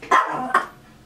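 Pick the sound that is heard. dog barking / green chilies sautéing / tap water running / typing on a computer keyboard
dog barking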